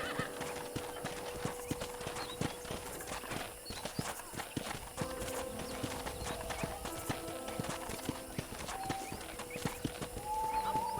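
Horse hooves clip-clopping at a steady gait in the video game Red Dead Redemption, set against a continuous ambient game backdrop with occasional tonal music or effects, fairly constant and moderately loud.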